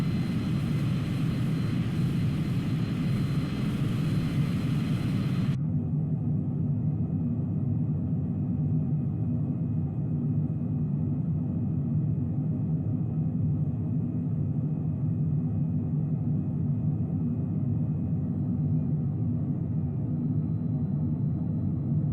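An RQ-4 Global Hawk drone on a fully automatic ILS landing in Microsoft Flight Simulator gives a steady, loud jet engine drone with constant rumble, whose bright upper hiss drops out partway through and leaves a lower hum.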